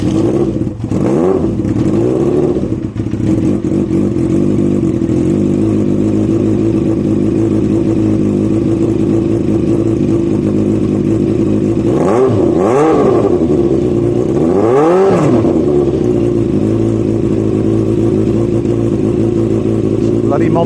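A Yamaha Fazer motorcycle fitted with an aftermarket exhaust starts cold and idles loud and close with a rough, steady drone, then rises in a few throttle blips and revs.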